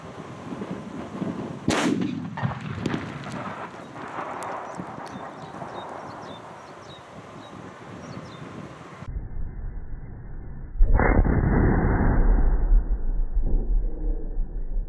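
A sharp, heavy rock-blasting charge cracks out nearby, followed by a rumbling roll of debris and low noise that carries on for several seconds.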